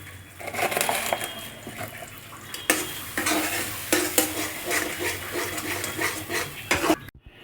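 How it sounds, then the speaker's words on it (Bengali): Green peas being stirred and tossed in a hot wok with salt and sugar, a steady close sizzle broken by repeated scraping strokes of a spatula against the metal, no voices. "আমার কড়াইশুটিটা আমি কড়াতে নেড়ে নিয়েছি"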